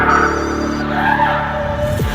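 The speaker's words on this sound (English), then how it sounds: "He's warming tyres." A race car warms its tyres with a continuous engine drone and squealing, skidding rubber, close and loud, ending in a falling engine note.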